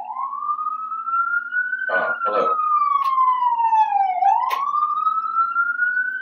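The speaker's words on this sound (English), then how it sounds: "Oh, okay, it's an ambulance." An ambulance siren wails nearby in a loud, steady rising-and-falling tone that grows closer, while a person briefly speaks over it partway through.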